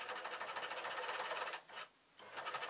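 An overlocker sewing a rolled hem on jersey fabric for swirly skater shirts: a fast, even mechanical whir at close range that stops briefly, then starts up again.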